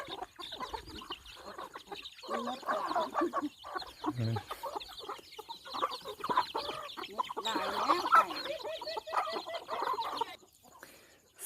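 Chickens cluck steadily across the whole stretch, a busy mix of overlapping calls from several birds at moderate distance.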